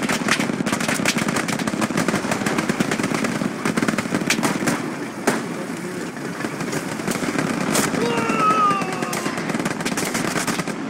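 In the Hell Let Loose video game, a frag grenade goes off amid dense, continuous battlefield gunfire, a loud sustained rattle of shots with sharper bursts standing out, and no talking.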